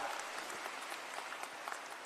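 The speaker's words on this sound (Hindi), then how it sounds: "अगर बुझाता तो ताली जोर से बजता" An audience at a political rally in Bihar claps steadily, a dense wash of applause from a large crowd heard at moderate distance without any speech over it.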